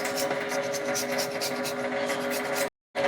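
Fresh ginger scraped over a grater gives a quick, repeated rasping, a steady run of close strokes that stops abruptly near the end, with no talk.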